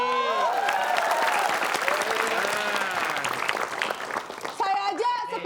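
A studio audience claps in a sustained burst of applause, dense and close, with people talking and laughing over it near the end.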